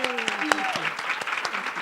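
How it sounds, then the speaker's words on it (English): Steady clapping from a crowd at a women's wellness masterclass, broad and continuous, with voices and a few tonal sounds mixed in underneath. "Can we give her a round of applause?"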